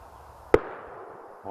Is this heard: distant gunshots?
yes